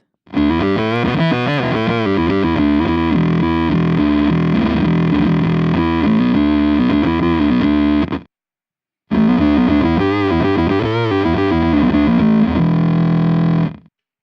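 A thick, fuzzy electric guitar plays heavy riffs through a Blue Box octave-fuzz pedal, a low octave doubling underneath blended with the fuzz, briefly cutting out before resuming, loud and saturated.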